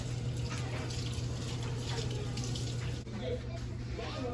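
A tap runs steadily while hands are washed beneath it in a kitchen, the water hissing and splashing continuously and fairly close, then briefly interrupted near the end before flowing on.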